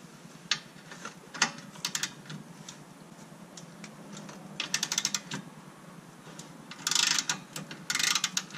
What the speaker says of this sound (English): I'm just gonna take this one out now